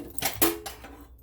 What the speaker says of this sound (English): I'm going to put all my veggies and my meat inside of that pan